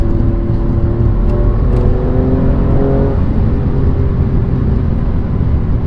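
A loud Alfa Romeo Giulia Quadrifoglio sports car engine rumbles and revs close by, a steady low roar with a rising pitch sweep early on, no talking.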